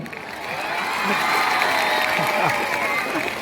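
Children at a school Children's Day celebration clap amid crowd noise, the applause swelling in the middle while voices and some cheering mix in throughout.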